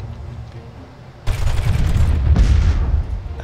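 Laser weapons firing in the space strategy game Master of Orion: a burst of loud, dense blasting erupts suddenly after a quieter stretch, rolls on with a second surge partway through, then eases off toward the end.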